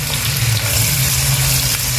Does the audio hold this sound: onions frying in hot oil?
yes